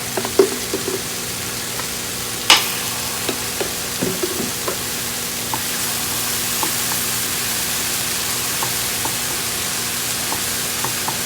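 Minced garlic sizzles in a pan on the stove, heard as a steady broadband frying hiss throughout with a sharp utensil clink early on and a few light scrapes over the next seconds.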